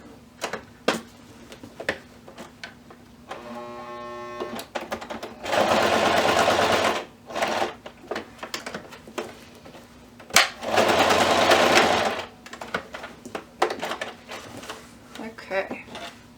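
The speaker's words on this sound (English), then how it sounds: "stitch a box stitch around this. It's a lot of layers to get through" A sewing machine runs a box stitch through many thick layers in two sustained loud bursts, separated by clicks and handling sounds, close by.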